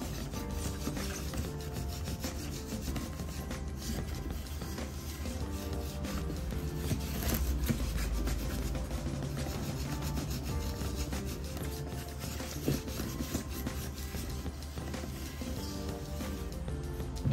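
Sneakers wiped clean of dirt with a cloth, giving a steady, continuous rubbing and scrubbing sound close by, with no talking.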